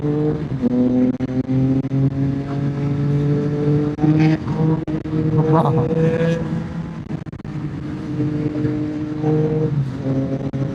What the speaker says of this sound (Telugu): మన బ్రో బైక్ సౌండ్ ఉంటుంది చూడు